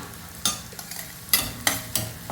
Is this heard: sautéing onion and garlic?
yes